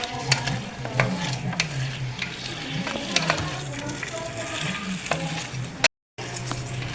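Chicken pieces and green chillies sizzle in a pan while a spoon stirs and scrapes them, with steady frying hiss and irregular clacks, briefly cut to silence near the end.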